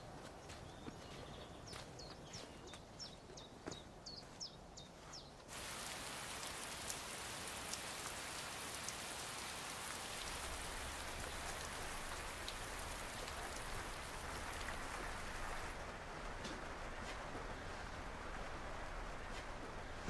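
Steady rain falls outside a potting shed, a dense, even hiss that swells louder partway through and carries on unbroken, with a few faint chirps near the start and no talk.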